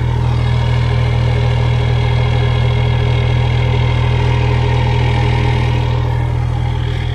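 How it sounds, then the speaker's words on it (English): A turbocharged car engine idles steadily with a deep, droning exhaust note and a constant, loud hum, no talking over it. "You can hear the exhaust. You can hear the turbo a lot better than you could before."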